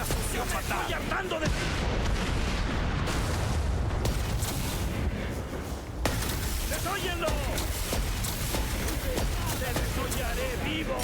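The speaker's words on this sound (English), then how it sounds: "Tom's weakness is gun, so we're just gonna shoot him" Gunfire from a video game speedrun as the player shoots the boss Tom in a horror-themed winter setting: dense, continuous booming shots fill the whole stretch, with commentary talking over them.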